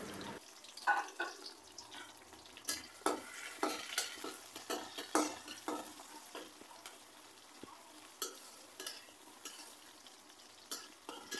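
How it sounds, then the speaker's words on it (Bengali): Onion and green chili fry quietly in oil, with repeated scraping stirs of a spatula against the pan over a faint, steady sizzle. "এরপর শাক বসানোর জন্য আরেকটি চুলায় তেল, পেঁয়াজ, কাঁচামরিচ সব ভেজে নিই।"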